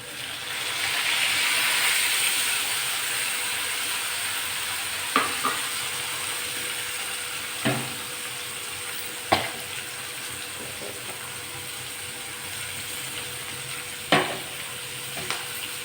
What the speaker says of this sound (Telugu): దోరగా వేయించుకున్న తర్వాత దీనిలో టమాటా ముక్కలు వేసుకుంటాం.